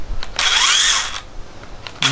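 Daewoo DACS 821Li cordless mini chainsaw, repaired after a safety switch fault, whirs up loudly for under a second, cuts out, then starts again briefly, close by with no talk.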